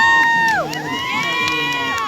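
Crowd cheering and whistling at a kayak rodeo, loud and continuous with rising and falling whoops and shouts throughout, dense with many voices at once.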